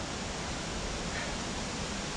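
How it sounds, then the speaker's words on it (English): Waterfall in the Tatra Mountains, a dense, steady rushing roar of falling water, loud and close, with no break for the whole short stretch. "it was one bloody waterfall"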